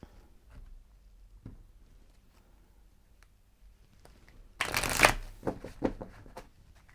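Tarot cards being shuffled by hand, a quiet stretch of faint taps and rustles before a loud close burst of riffling and flapping near the end, with no talk over it.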